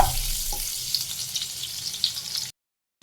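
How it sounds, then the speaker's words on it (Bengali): Butter melting in white cooking oil in a pan gives a steady, close sizzle and frying crackle for about two and a half seconds, with a few louder pops and faint stirring before it cuts to silence. "বাটারটা মেল্ট হওয়ার জন্য ওয়েট করব।"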